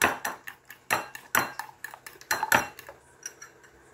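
A utensil clinks and scrapes against a bowl in quick, uneven strokes while rice patty ingredients are mixed with salt and seasoning, bright close-up taps that taper off toward the end.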